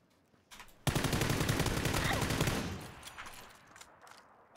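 Loud burst of rapid automatic gunfire in the first-person shooter PUBG, a dense sustained volley that tails off after a few seconds, close by and mostly alone.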